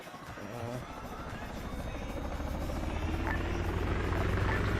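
Helicopter in the video game Arma 3, a steady rotor and engine drone that grows slightly louder over the clip, with faint voices underneath.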